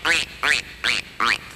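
A duck quacks four times in an even, evenly spaced rhythm, each call short, nasal and close, with brief silences between and no other sounds.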